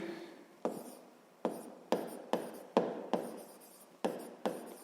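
Pen or pencil writing on paper during a sixth-grade maths lesson, close and faint, a series of short scratchy strokes, about nine distinct bursts in uneven rhythm, with no talking.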